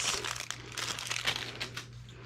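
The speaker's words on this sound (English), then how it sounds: "you'll have to open it up out of this plastic" Plastic packaging around an Epson printer ink refill part being opened by hand, a close series of crinkling and crackling bursts over a low steady hum.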